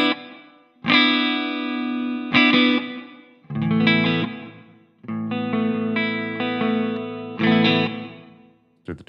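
Distorted electric guitar chords through a NUX Mighty Plug Pro hall reverb ring out in several bursts, each swelling and decaying into a spacious, lingering reverb tail between strikes.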